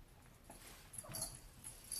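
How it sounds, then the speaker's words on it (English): Dogs passing by indoors give a few faint, brief whimpers and yips over a quiet, low background rumble. "Cats and dogs walking by here."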